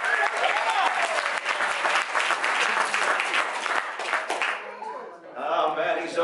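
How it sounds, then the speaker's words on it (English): Sustained round of applause from a crowd at a business networking anniversary gathering in a restaurant, dense clapping filling the room for several seconds before thinning out, with a voice speaking near the end. "Let's have a round of applause."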